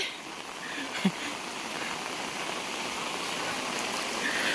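Water rushing along a forest stream in the Konkan jungle, a steady broadband hiss with a faint knock near the start, close and continuous, no voices.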